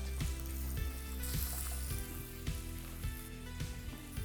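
Lamb rack sizzles loudly as it sears in a hot pan, a continuous crackling hiss with periodic thumps as it is pressed or moved, close up.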